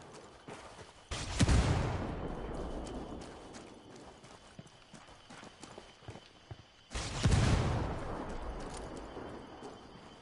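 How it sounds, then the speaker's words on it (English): Two flashbang grenades go off in the tactical shooter Ghost Recon Wildlands, each a sudden loud burst that decays into a long ringing wash, the second arriving about six seconds after the first, with sparse gunfire and movement between them. "Flashbang's going."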